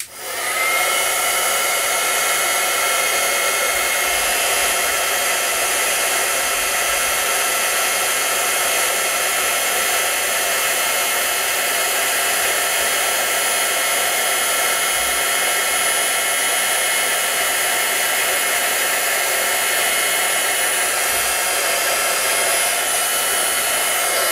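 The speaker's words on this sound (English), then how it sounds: "So I have my heat tool, and this gets very hot, so you don't want your hand by it." Heat embossing tool blowing hot air, a steady close loud whoosh like a hair dryer that runs unbroken throughout with no talking.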